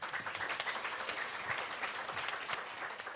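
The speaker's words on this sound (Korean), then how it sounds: "우리 한번 일단 기운을 내면서 박수 한번 보태주시기 바랍니다" Audience at a special youth-policy panel event claps together in a steady, dense round of applause that holds at an even level throughout, with many hands blending into a continuous patter.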